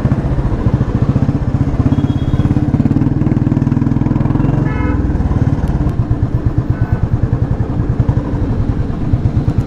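A motorcycle engine with a fault and an oil leak runs with a rough, rapid chugging beat that falters and shifts pace about halfway through, then resumes. The engine stays loud and close throughout.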